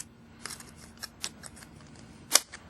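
Scissors snipping through futon material during a repair, a few quiet scattered cuts ending in one sharp louder snip, close by with no talking.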